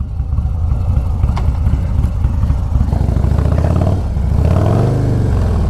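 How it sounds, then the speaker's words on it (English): A Harley-Davidson Low Rider S motorcycle exhaust rumbles loud and close, a deep throbbing idle that swells into stronger revving toward the end. "I got my visor open right now where you guys can hear that exhaust screaming"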